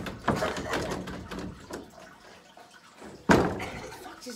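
A jammed metal school locker door in a hallway bangs loudly once, a sharp slam standing out after a stretch of rattling and knocking.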